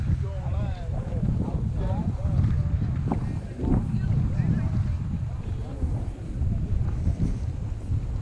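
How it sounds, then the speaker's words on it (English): Gusty wind buffets the microphone in a constant low roar at an outdoor flea market while people talk over it. "It could be cold, but it's just too windy."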